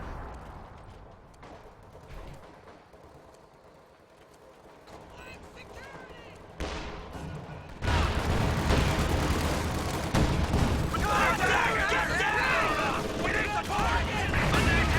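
Artillery barrage shells exploding in the video game Company of Heroes 2, heard as heavy, rumbling blasts and dense battle noise that grow louder and fuller partway through, with a voice talking over the action.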